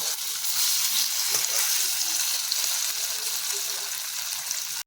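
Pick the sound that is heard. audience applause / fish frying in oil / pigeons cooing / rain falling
fish frying in oil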